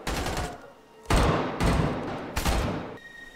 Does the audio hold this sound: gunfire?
yes